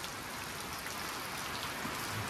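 Steady rain falling on a farm during a flooding storm, a dense continuous hiss of drops close by with no pauses and no voices.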